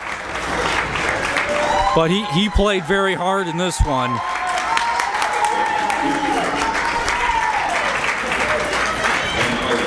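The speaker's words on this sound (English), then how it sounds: "definitely a round of applause from the crowd here" A crowd at a boys' basketball game applauds for about two seconds in a short, dense burst of clapping, then a commentator keeps talking over the gym's ambient crowd murmur.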